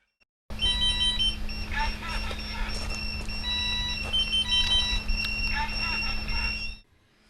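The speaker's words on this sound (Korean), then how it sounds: "참숯 화로를 텐트 안에 넣고 출입문을 닫자마자 경보음이 울립니다." A carbon monoxide alarm beeps in a tent where a charcoal brazier burns, with repeated electronic tones over a steady hum and background noise, loud and close, and several detectors sounding together.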